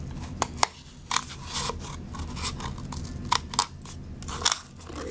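Scissors cut holes in craft material in a children's sculpting and pounding activity, giving several short, close crisp snips and crunches at irregular intervals with no talk.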